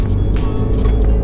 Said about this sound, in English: Into first gear, start accelerating, and then we'll be driving.